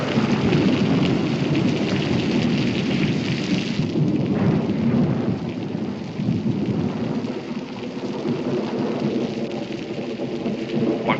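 Heavy rain pours steadily with deep rolling thunder rumbling throughout, a continuous loud storm with no voices.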